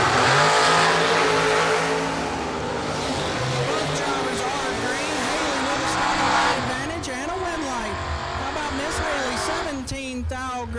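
Old school bracket drag race cars rev and roar down the strip, engines rising and falling with shifting pitch over several seconds, loud and sustained, while an announcer talks over the racket.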